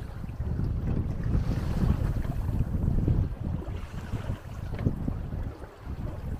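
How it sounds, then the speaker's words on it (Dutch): Waves slap and churn around a small boat on a lake under gusting wind, a dense rumbling wash with heavy wind buffeting the microphone throughout and no voices. "Het zijn behoorlijke golven."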